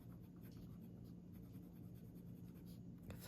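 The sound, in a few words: Platinum 3776 medium nib fountain pen writing with Robert Oster Black Violet ink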